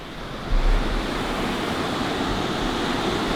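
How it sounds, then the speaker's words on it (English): Steady broadband rush of a waterfall in the Great Smoky Mountains, a continuous even roar with slight swelling near the start, close and fairly loud with no voices. "So I got this waterfall over here with the 4x5."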